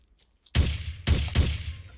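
Gunfire in the Ghost Recon video game: three sharp, loud shots in quick succession after a brief near-silence, each with a short booming tail.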